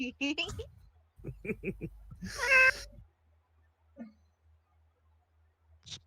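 A person imitates a cat with several drawn-out meows and squeaky mews, close by, broken by brief pauses and quiet stretches.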